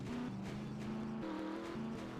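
Race cars in a stock-car racing video game at a flat Daytona track, a steady engine whine with shifting pitch and faint scraping, the crash itself not sharply distinct from the continuous motor drone.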